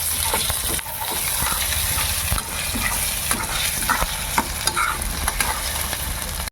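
Tomato and green chillies frying in a pan for a Bengali baul fish curry with khamalu yam, a steady close sizzle with stirring scrapes and spatula knocks throughout, no voices.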